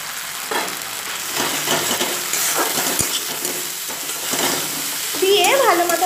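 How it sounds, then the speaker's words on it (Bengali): Hot oil sizzles steadily in a pan as salt, turmeric, sugar and red chilli powder are stirred in, with scraping spoon strokes over a continuous close hiss. "ভালো মতো নাড়াচাড়া করে দেব"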